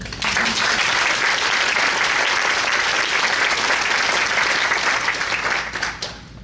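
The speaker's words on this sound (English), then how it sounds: "So please join me in a round of applause for the panel." Sustained audience applause for an arts panel at a youth and community summit, a dense, steady wash of many hands clapping at full strength that tapers off near the end.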